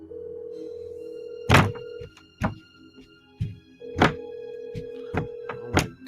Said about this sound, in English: You hear the phone ring right there.